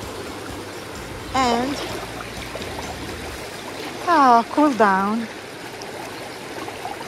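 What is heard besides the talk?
river stream flowing at Furnas, Azores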